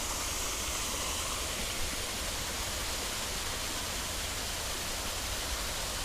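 A stream flows steadily beside a pool, giving a dense, even rush of water that stays constant and fairly close throughout with no voices over it.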